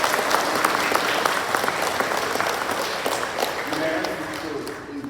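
A church congregation applauds during a Pentecost Sunday service, with steady, dense clapping that fills the whole stretch, close and fairly loud.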